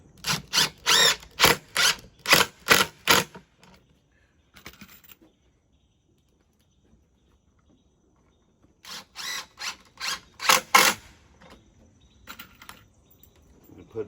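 A drill driving 2.5-inch screws into pocket holes of a wooden desk, two runs of rapid ratcheting clicks in quick pulses, near and loud, separated by a long quiet gap.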